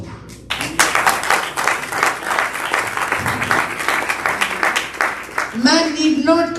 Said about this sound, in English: Today we will clap for each other.